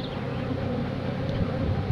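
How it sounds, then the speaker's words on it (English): Honey bees buzzing loudly and steadily at close range while a nuc is shaken down and moved into a 10-frame hive, a dense continuous hum with no talking. "The bees probably gonna get a little crazy while doing this."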